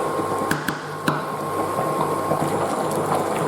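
Okra soup simmering in a pot, a steady low bubbling with a few sharp clicks near the start, close and even throughout.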